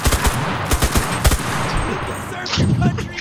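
Rapid bursts of gunfire in the battle royale game Cuisine Royale, sharp repeated shots in a quick irregular rhythm that fade toward the end, with faint game noise behind.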